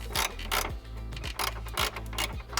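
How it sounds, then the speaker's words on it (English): A ratchet socket tightening a bolt on a Vicrez carbon fiber engine cover of a Chevrolet Corvette, repeated short bursts of quick clicking in a steady back-and-forth rhythm, close and fairly quiet with no talking. "Now that it's starting to catch thread, I can take my ratchet socket."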